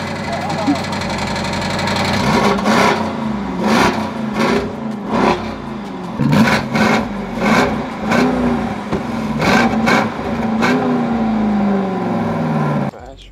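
A car with aftermarket exhausts sits at a rough idle and is revved in a rapid series of about eight sharp, loud blips, each rising and falling back. The revs are close and dominant throughout.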